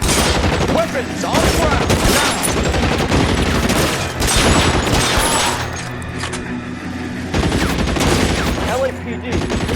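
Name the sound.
gunfire in the video game L.A. Noire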